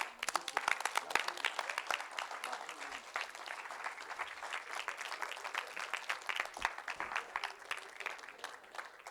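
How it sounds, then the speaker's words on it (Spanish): Congregation applauding the King during a church service: steady, dense clapping from a crowd throughout, moderately loud and sustained with no break. "¿Puedes dar un aplauso al Rey?"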